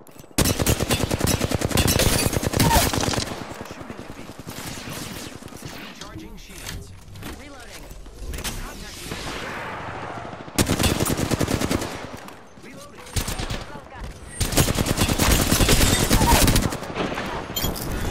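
Automatic and rapid gunfire in an Apex Legends match, with loud dense bursts at the start and end and a quieter stretch of scattered shots and game noise in between.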